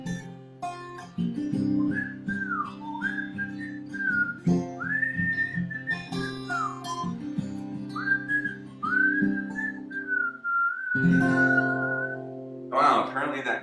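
A person whistles a wavering melodic tune with slides between notes, over a sustained low musical backing, clear and close.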